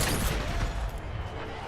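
Explosion and gunfire in the Sniper Elite VR game on PS5: a short, dense burst of booming blasts and shots, loud at first, then fading within under two seconds.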